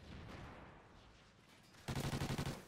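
Rapid automatic gunfire in a multiplayer shooter game, a dense burst of roughly ten shots at the end following a stretch of quieter, more distant firing and ambience.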